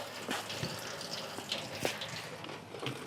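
Water splashes and drips irregularly near a car under repair, with scattered drops and small gushes in a quiet workshop.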